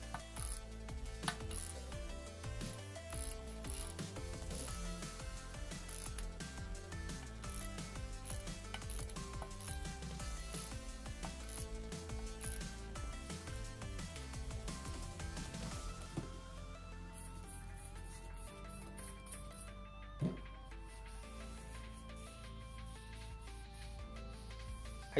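A ratchet clicks rapidly and repeatedly while fasteners are tightened to press a wheel bearing into a 1997 Honda Accord, a quiet, close, steady mechanical ticking with no talking.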